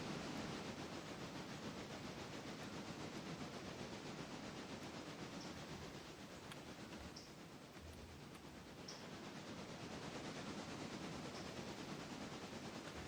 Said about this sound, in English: Now that was pulling the passenger train.